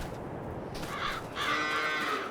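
Cattle lowing in Farming Simulator 22, two drawn-out moos close by, the second louder and longer, over a steady background hum.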